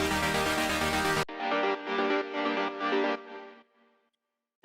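After a dense full-band burst cuts off, an unprocessed saw synth chord layer in FL Studio plays a few pulsing buzzy chords that thin out and fade to silence.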